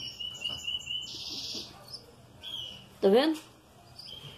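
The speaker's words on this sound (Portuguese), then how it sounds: "São os meus filhotes de canário verde." Green canary chicks let out high thin chirps and whistles, with one louder rising chirp burst, faint over background noise while a person speaks briefly.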